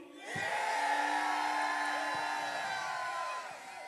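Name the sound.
crowd cheering for emcee Blue at battle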